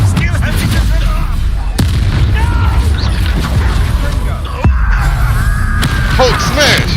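Explosive spell blasts in the Hogwarts Legacy video game, loud booming impacts landing repeatedly amid a dense, noisy battle with music and effects throughout.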